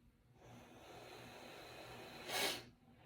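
A single forceful breath blown out during a breathing exercise to help move mucus, a soft steady airflow lasting a couple of seconds that ends in a louder, hissy burst near the end, close and alone.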